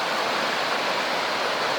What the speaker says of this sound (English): there's the main river